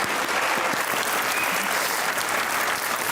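Studio audience applause during a Pakistani television interview show, dense continuous clapping filling the whole stretch at an even level with no talk over it.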